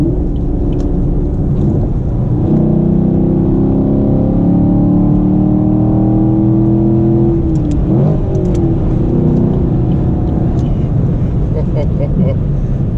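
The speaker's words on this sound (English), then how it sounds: "This car is not as loud as the EcoBoost Mustang, which is funny because this car is a V8." A 2016 Chevrolet Camaro SS V8 at high speed gives a loud, constant rumbling drone from the cabin, its pitch climbing through a long acceleration before a gear change, with someone talking over it.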